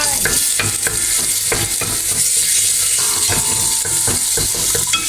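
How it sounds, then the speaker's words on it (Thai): Garlic and bird's eye chilies fry in hot oil in a pan, a constant loud sizzle broken by frequent scraping stirs of a utensil, with no talking. "เจียวกระเทียมกับพริกขี้หนูนะคะ"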